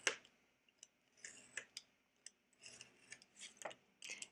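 A blade cuts through cardboard or paper for bookbinding in short, quiet scraping strokes, a series of faint close cuts with pauses between them.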